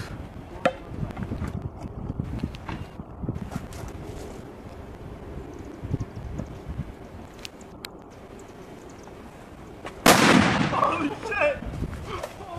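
A basketball bursts with a sudden loud, bomb-like bang late in the clip, followed by a hissing rush of noise, while rumbling wind-buffeted background sound comes before it.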